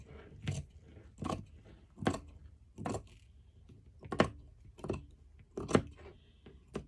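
Scissors snip fabric for a cuddle coat in a quiet room, eight or nine crisp, evenly spaced cuts about one per second, close and clear with nothing else heard.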